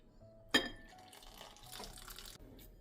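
About 100 ml of water is poured into pudding mix for a no-bake dessert, starting with a sharp splash and settling into a quiet, steady trickle for roughly two seconds.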